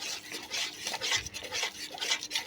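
Semolina being stirred into reduced watermelon juice in a pan, close rhythmic scraping strokes of a spoon against the pan bottom, repeating every half second or so, fairly quiet.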